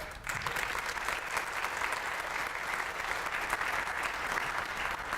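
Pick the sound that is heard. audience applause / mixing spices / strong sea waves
audience applause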